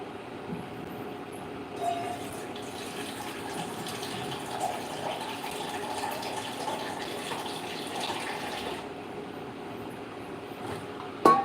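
Water pours steadily into a cooking pot of vegetarian khichuri with potato, a continuous close splashing gush that runs for several seconds and then eases off.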